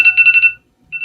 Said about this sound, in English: Oop, that's our alarm, so our cookie should be ready.